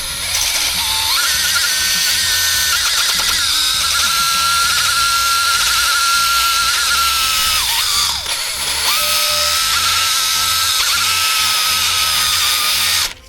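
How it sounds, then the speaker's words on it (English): A small abrasive polishing wheel on a power tool whines loudly and steadily while chamfering a differential bearing race bore during an F250 differential rebuild, its pitch dipping briefly as it bites in. "So I'll just get a little polishing wheel and take it down a little bit"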